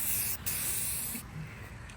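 Spray paint hisses from an aerosol can onto a car body kit, close and continuous with two brief breaks in the spray, and the can sputters unevenly.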